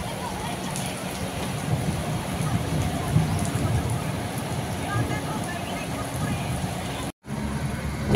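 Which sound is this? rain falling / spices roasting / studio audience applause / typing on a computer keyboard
rain falling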